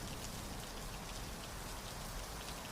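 Steady, soft rain falling and pattering on surfaces, a constant even hiss with no voices, heard as quiet background ambience.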